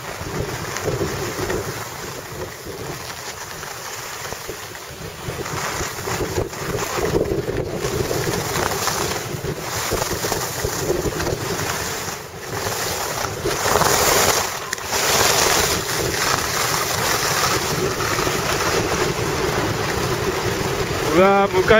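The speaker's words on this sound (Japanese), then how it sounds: "向かい風が強くて進まない。" Strong headwind buffets the microphone on a fog-covered ski course at Shiga Kogen, Yokoteyama, a continuous loud roar of wind noise with gusty swells throughout.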